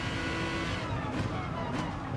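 An Aston Martin DBR9 GT1 race car accelerating up through the gears at the Nürburgring, its engine a loud, steady in-car roar that sustains throughout with faint pitch shifts.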